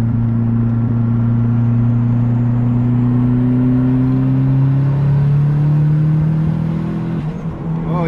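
Mitsubishi Eclipse 2G engine with Speeduino tuning accelerating in third gear, a loud continuous droning rumble that rises steadily in pitch over about seven seconds and then eases off.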